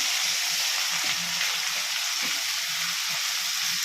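Boiled drumstick leaves sizzle and fry in a hot oil spice tempering, a constant crackling hiss with occasional soft stirring clinks.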